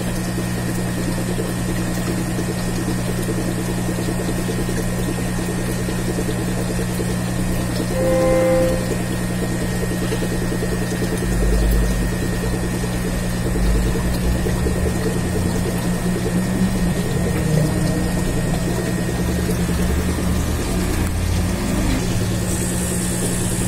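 Water pump filling a hospital aquarium, humming steadily and loudly with constant tonal drone and faint liquid churn, no voices.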